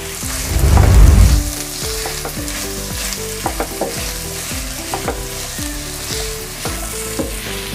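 Two cups of chopped onion hit hot oil with cardamom, cinnamon and a bay leaf, bursting into a loud sizzle, then settling into steady frying with rhythmic clinks of stirring.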